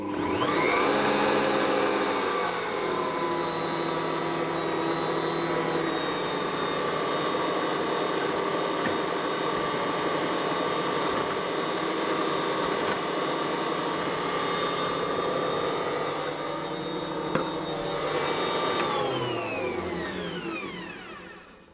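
Ankarsrum stand mixer whirring steadily as it mixes yeast, sugar and oil, a loud continuous motor hum that holds for about twenty seconds before winding down.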